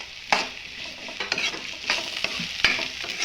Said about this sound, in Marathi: छान परतवून घ्यायचे.